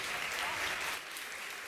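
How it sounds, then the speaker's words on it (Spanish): A room in the Argentine Senate fills with a burst of applause, dense and continuous clapping that holds steady and then eases slightly toward the end. "No se puede aplaudir acá"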